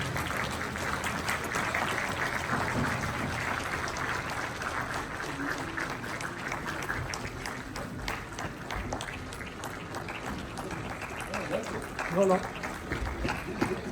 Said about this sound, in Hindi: आप सब जोरदार तालियों के साथ अपना दीपक जला दीजिए।